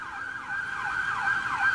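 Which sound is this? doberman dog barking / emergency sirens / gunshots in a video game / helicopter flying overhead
emergency sirens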